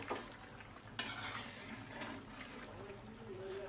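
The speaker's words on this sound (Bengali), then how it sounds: "এই যে এখন হচ্ছে নেড়ে চেড়ে নেব।" Fish and vegetable curry being stirred in a pot at a boil, a spoon scraping and sloshing with a sharp knock near the start, over a faint bubbling sizzle.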